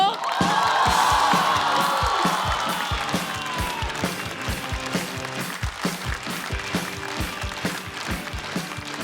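A stand-up comedy theater audience bursts into loud cheering and whoops as a comedian is introduced, then settles into sustained rhythmic clapping from a large crowd.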